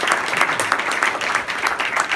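A crowd applauds the state Commissioner of Health at a public event with the governor, steady dense clapping throughout, moderately loud and without talk over it.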